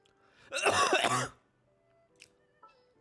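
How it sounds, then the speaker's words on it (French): A single harsh throat clearing from a cough, close and fairly loud, followed by a couple of faint small clicks in an otherwise quiet room. "je tousse encore, les gars."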